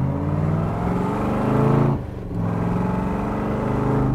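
A 1966 Chevrolet Corvette with side exhaust accelerating at about half throttle, its engine note loud and close, rising steadily, dipping briefly as it shifts gears, then pulling strongly again.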